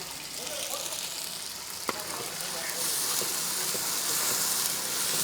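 Ginger-garlic paste sizzles and fries in a pan for a Chettinad-style duck mappas at a toddy shop kitchen, a continuous close hiss that grows slightly louder, with one sharp clink partway through.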